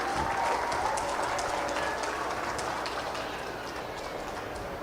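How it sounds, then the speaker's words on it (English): Crowd applause at a county fair 4-H/FFA dairy cattle show, cheering heifer exhibitors of Jersey, Holstein and Ayrshire breeds; steady sustained clapping from a sizeable audience, fairly distant and gradually easing off, with no talk over it. "give these exhibitors again one more big round of applause for the job they've done"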